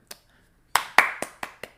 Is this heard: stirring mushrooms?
no